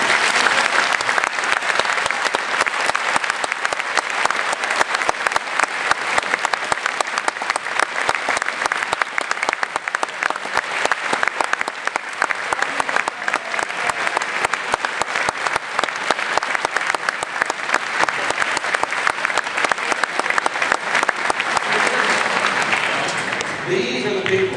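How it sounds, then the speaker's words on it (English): Long, dense applause from students in a school gathering for the school staff, loud sustained clapping that fills the room evenly for over twenty seconds. "let's give them a round of applause"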